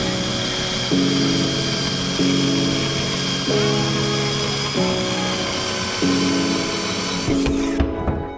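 A power tool whirs continuously while grinding metal on a car, its pitch stepping up and down in repeated passes before cutting off abruptly.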